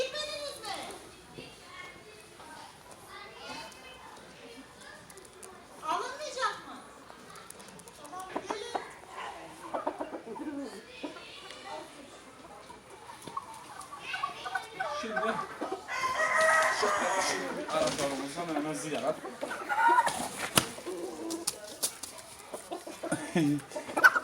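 A young Indian breed rooster crows and clucks among other fowl, with children's voices and chatter running alongside.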